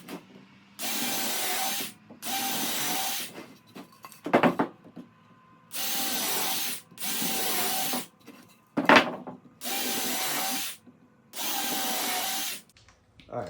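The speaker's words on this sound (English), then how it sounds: "we're basically just going to drill 2 holes on each end that we're going to use for the screw holes" A power drill with a 1/8 inch bit bores screw holes in wood for garage shelving, in six steady whirring bursts of about a second each, separated by pauses and a couple of sharp knocks.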